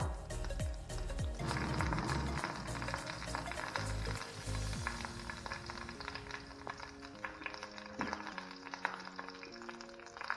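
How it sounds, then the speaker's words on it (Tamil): Mustard seeds and curry leaves crackle and sputter loudly in hot oil for tempering a chutney, dense popping that settles into a steady sizzle with faint clinks. "தாளிப்புக்கு வந்து கொஞ்சம் கடுகும் கொஞ்சம் கருவேப்பிலையும் போட்டிருக்கேன்."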